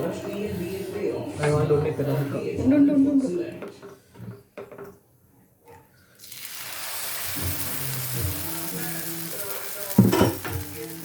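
A dosa sizzles on a hot pan in a home kitchen. After a stretch of talk and utensil clinks, a loud, steady hiss starts and fills the second half, with a few pan knocks.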